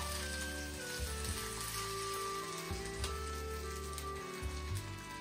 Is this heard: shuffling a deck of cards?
no